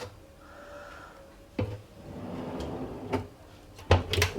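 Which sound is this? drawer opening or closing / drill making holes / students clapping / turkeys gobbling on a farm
drawer opening or closing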